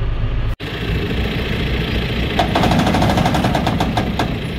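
A truck's drum slip clutch slipping with a loud, steady mechanical grinding and rattling drone, developing a rapid repetitive knocking chatter partway through, with a brief dropout near the start.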